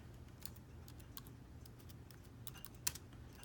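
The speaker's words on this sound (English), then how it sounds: "and then you can make a text box. So let's just write Miss Morris" Rapid computer keyboard typing as text is entered into a text box, a quiet, steady patter of light key clicks with one sharper tap near the end.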